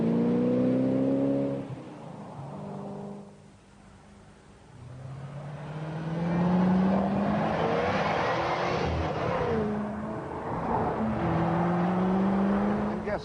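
A 600 horsepower Aston Martin Vantage sports car drives with a loud engine note that rises and falls through gear changes, easing off briefly before revving up again, with no talk over it.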